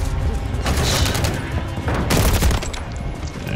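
Rapid bursts of gunfire from Call of Duty Modern Warfare 3 multiplayer, loud and dense with overlapping shots and crashes, no talk.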